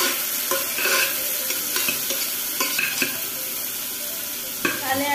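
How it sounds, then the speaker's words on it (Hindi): Spinach khichdi is stirred in a frying pan, the spoon scraping in repeated strokes over a constant loud sizzle, close up with no talking. "हिला देती हूँ,"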